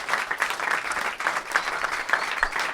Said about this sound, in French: on peut applaudir chaleureusement le Palace